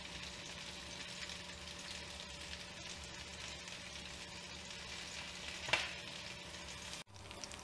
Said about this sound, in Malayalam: അപ്പം നമുക്ക് നല്ല റൈസ് ഒന്ന് മിക്സ് ചെയ്ത് കൊടുക്കാം